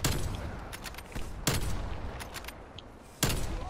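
Gunfire in a video game: three sharp, loud shots spaced over a few seconds, each bursting out over a steady background of game noise, with no talk.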